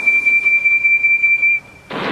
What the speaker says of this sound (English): I told you my whistle is as good as your silly old honky horns